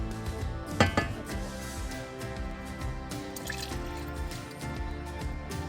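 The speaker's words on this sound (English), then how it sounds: "I'm gonna pour this water" Water pours into a bowl with a steady liquid splash, a brief clink of a container near the start, over faint background music.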